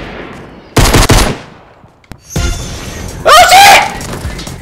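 Video game gunfire from Rainbow Six Siege, including a headshot: two loud, sharp bursts of shots about a second apart, then another blast with a ringing metallic tail, over quieter in-game ambience.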